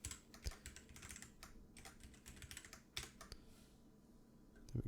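Quick, irregular clatter of computer keyboard keys as code is typed, close and fairly soft, with short bursts and pauses and a sharper tap near the end.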